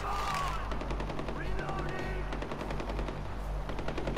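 Far Cry 4 gameplay gunfire: rapid automatic bursts of shots in a fast, even rhythm, loud and close over a low background rumble of the game.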